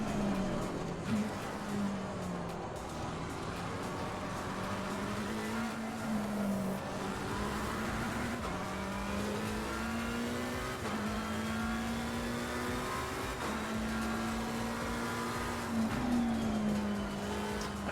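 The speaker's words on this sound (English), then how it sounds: "I think the engine sounds in this are really nice. You get a really good sense of the engine roaring away." Race car engine in the racing video game Assetto Corsa Competizione, roaring continuously with repeated climbs through the revs and shifts, steady and fairly loud with no talking.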